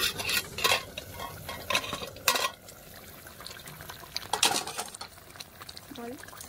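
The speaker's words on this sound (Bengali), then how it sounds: "দেখুন মাছগুলো ফুটছে" Pabda fish simmering in a mustard and poppy seed gravy, with intermittent stirring and utensil clatter over a low bubbling background, some clanks loud and close.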